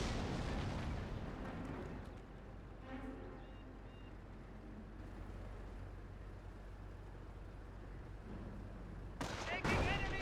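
Gunfire and artillery from a Company of Heroes 1 match, rumbling and crackling continuously at a distance with a louder burst of shots near the end, under game voices.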